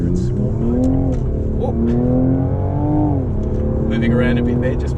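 Toyota Supra in sport mode accelerating hard up a freeway on-ramp, its engine climbing through the revs with a short dip at a shift before pulling again, loud from inside the cabin.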